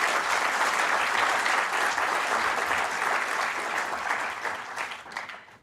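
Sustained applause from a conference audience at an arbitration session, a dense steady wash of clapping that holds for several seconds and then thins out toward the end.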